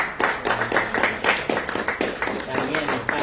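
An audience at a cultural event in Huancané, Puno, applauds for an artist, with rhythmic clapping running throughout at moderate loudness.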